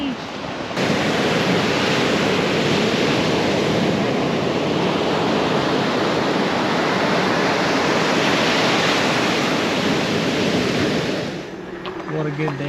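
Ocean waves wash onto a beach in Hawaii, a loud, steady roar of surf that fills the scene for several seconds before easing off near the end.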